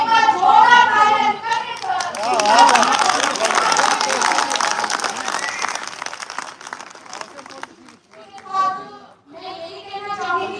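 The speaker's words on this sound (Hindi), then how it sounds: "तो एक बार जोरदार तालियां" Audience applause at a talent-honour award ceremony in Bikaner, a dense wash of clapping swelling and fading over several seconds, mixed with children's voices and crowd chatter, then a pause before talk resumes.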